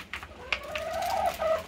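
Hens clucking near quails, soft drawn-out clucks and a rising call over a steady background hum, close but not loud.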